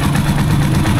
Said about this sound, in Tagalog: pakinggan nyo yung kalog ng ating makina